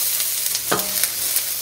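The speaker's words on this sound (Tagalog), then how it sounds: "mag-isa na tayo ng onion and garlic" Onion and garlic sautéing in a pan for Filipino-style spaghetti, a steady sizzle with a brief scraping stir near the middle; no talking.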